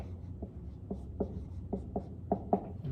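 Pen or pencil writing math notation by hand, a series of soft, close scratchy strokes and taps in an irregular rhythm, quiet and alone.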